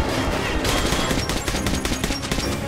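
Sustained enemy gunfire in Metro: Last Light, a dense fusillade of overlapping shots and bursts that stays loud and close throughout with no talking.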